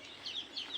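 Chickens on a farm cluck softly in a brief, faint stretch, with a few sharper calls rising over a low background hush.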